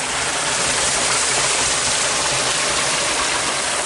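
Small waterfall pouring steadily, a dense, loud hiss of falling water filling the scene up close with no other sounds.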